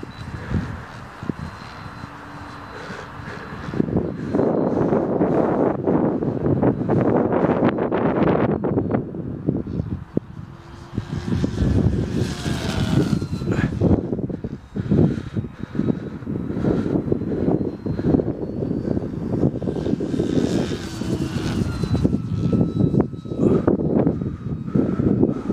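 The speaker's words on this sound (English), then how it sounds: "That's full throttle upwind." A Dynam Tempest RC model plane runs at full throttle upwind in strong wind, its engine whine rising and falling as it passes, mixed with heavy gusty wind buffeting the microphone throughout.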